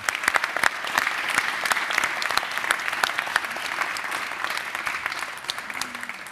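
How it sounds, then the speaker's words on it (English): An audience claps warmly for the panelists at a caring-cities conference, a dense, steady round of applause that continues throughout with a little faint talk underneath. "Let's give them big applause."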